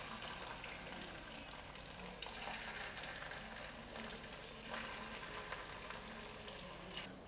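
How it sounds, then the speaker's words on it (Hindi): Pieces of chicken sizzling in hot oil, a steady, dense crackling hiss that holds at an even, moderate level throughout without any talking. "अब हम इसके अंदर चिकन फ्राई करेंगे, एक एक पीस करके आप डाल दें।"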